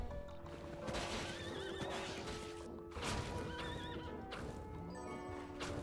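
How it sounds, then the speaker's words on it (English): A horse in the video game Bloodstained whinnies in a wavering, high, drawn-out way twice in a row, with a third shorter call near the end. Hoof clip-clops and a dense game soundscape run steadily beneath it. "Why is there a horse underwater?"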